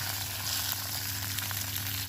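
Steady sizzling of tempering spices frying in hot oil for chutney, a continuous close crackle with small pops throughout.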